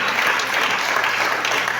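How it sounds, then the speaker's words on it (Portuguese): A church congregation applauds continuously during a worship service, a dense, steady wash of clapping from many hands that holds at an even, fairly loud level throughout. "Vamos aplaudir ao Senhor mais uma vez."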